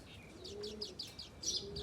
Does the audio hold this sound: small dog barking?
no